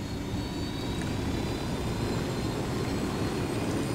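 A helicopter flies in the video game Ghost Recon Wildlands, producing a steady, dense engine and rotor drone that holds constant and fairly loud throughout with no talking.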